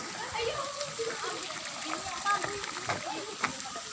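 People bathe in a cool natural spring pool, their splashing and moving water blending with a steady wash of flowing water and scattered voices of children and adults chatting throughout.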